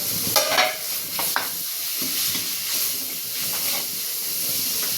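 Beef and holy basil stir-fried over high heat in a pan make a loud, hissing sizzle, with a few sharp scraping and tossing bursts near the start and steam hissing throughout.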